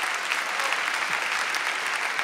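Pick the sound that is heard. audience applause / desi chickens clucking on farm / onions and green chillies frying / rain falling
audience applause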